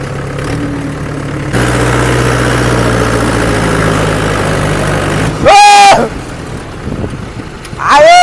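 A tractor engine runs in low load gear with a steady, loud low rumble that grows heavier partway through. Two brief high-pitched sweeping sounds rise above the engine near the end.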